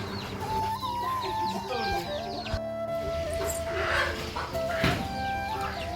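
Chickens clucking and a rooster calling nearby, mixed with farmyard noise and background music, fairly loud and continuous.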